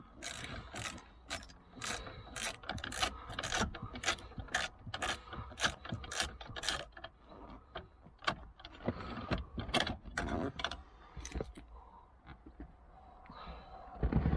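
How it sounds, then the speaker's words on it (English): A ratchet backs a 10mm bolt out of a Toyota MR2 interior in fast, rapid clicking bursts, close and crisp, followed by slower scattered clicks and small handling noises. "Yep, that's definitely a 10mm bolt. So we'll remove that."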